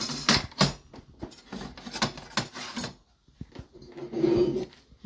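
Metal grate trays slide and scrape into the bed of a WeCreat Vision laser engraver, giving irregular close rubbing and clattering knocks with short pauses and a louder grinding slide near the end.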